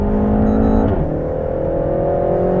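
A 300bhp Renault Sport Megane Trophy is driven hard on a race track. Its engine drones loud and close at high revs, holding a sustained note that dips slightly and then carries on.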